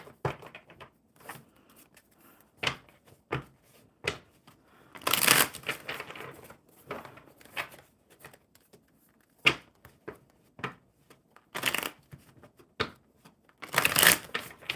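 Oracle cards shuffled close up, with sharp riffling bursts and quick taps repeating at irregular intervals, loud against near silence.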